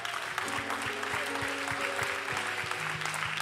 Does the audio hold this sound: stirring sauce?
no